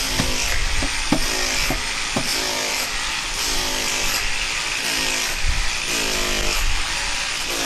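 An electric drill whines continuously up close while wiring a detached workshop, its motor pitch wavering slightly as it runs.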